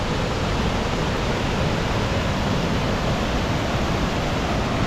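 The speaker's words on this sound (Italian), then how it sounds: "E siamo quasi arrivati alla cascata del Saltone." The Saltone waterfall near Lamon in Veneto, a loud, constant roar of rushing water filling the whole clip with no change in level and no voices.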